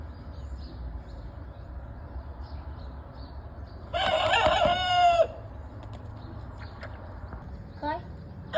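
A rooster newly introduced to a flock crows once, loud and close, in a harsh drawn-out call lasting just over a second, with quieter clucks and farmyard noise around it.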